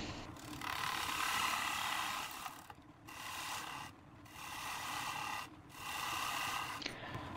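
A lathe tool refining the outer edge of a spinning ash wood bowl, producing a steady raspy cutting hiss in four long passes separated by short pauses.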